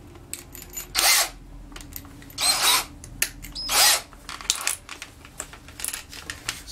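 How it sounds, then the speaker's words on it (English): A power drill with a 3/16 bit drills out picture-frame hanging hardware, running in three short, fairly loud bursts of about a second each, separated by quieter handling noises. "So, drill it out just a little bit."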